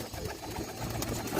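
Pigeons, some of them young, coo softly amid a noisy, rustling background while feeding on a homemade organic green juice, with the calls faint and slightly distant.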